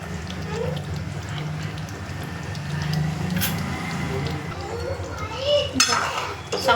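Egg curry masala with boiled eggs is stirred in a pan, with steady clinking and scraping of a utensil against metal and a soft, wet churning that grows busier toward the end.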